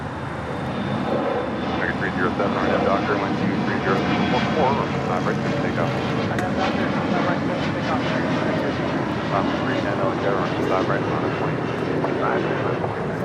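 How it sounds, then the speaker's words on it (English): A Korean Air Airbus A380 airliner, Flight 17 from Seoul, arriving at LAX, its broad steady engine roar filling the scene continuously from start to end, with a voice talking over it. "And our first A380 arrival of the show. Korean Air Flight 17 coming in from Seoul."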